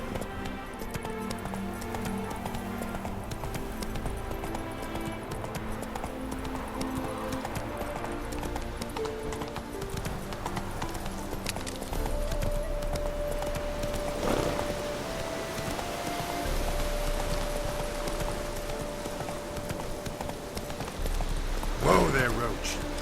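Horse hooves clip-clop at a run in The Witcher 3: Hearts of Stone, a steady rhythmic beat under game music, with a neigh near the end and speech in the clip.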